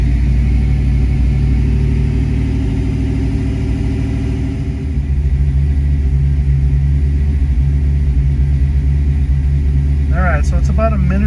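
A cold 1986–1993 Ford Mustang engine idles steadily with a low, continuous rumble throughout, its pitch shifting slightly midway as the idle settles lower; a brief voice is heard near the end.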